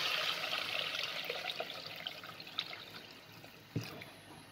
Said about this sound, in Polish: wlewamy tu wodę.